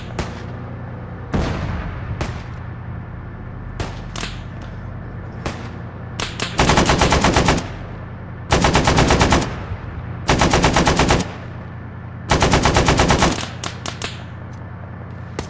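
Automatic gunfire from a tank in the Arma 3 military game during an urban battle in Zargabad, with sparse single shots early on, then four long, loud sustained bursts over a low constant engine rumble.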